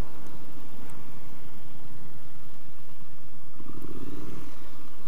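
A Triumph Street Scrambler motorcycle engine rumbling steadily while riding, with wind noise over a continuous low throttle drone and a brief rise in engine tone near the end.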